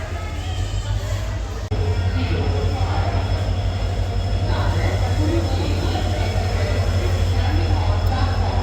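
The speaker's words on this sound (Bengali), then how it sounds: "এই দানাপুর এক্সপ্রেস বেরিয়ে যাচ্ছে" The Danapur Express pulls out of Bangalore's SMVT terminal, a loud, continuous low rumble of rolling carriages with faint station noise on top.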